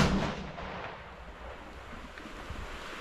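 A single 6 ARC rifle shot fired with a 30 grain CFE 223 powder load through a 26-inch barrel, a sharp outdoor report at the start that fades into a wind-buffeted rumble.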